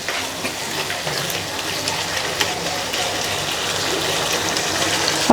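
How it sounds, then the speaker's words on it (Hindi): Water poured into a pan of pea pulao masala, a continuous rushing, hissing splash that holds steady and fairly loud for several seconds with no talk. "थोड़ा सा पानी ऐड करने लगे हम"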